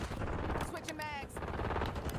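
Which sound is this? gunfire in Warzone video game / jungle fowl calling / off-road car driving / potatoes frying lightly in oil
gunfire in Warzone video game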